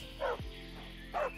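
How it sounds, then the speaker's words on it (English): In the Minecraft video game, a dog barks twice with a short yappy bow-wow about a second apart, clear and moderately loud over a steady game background. "Oh, there's a dog right down there."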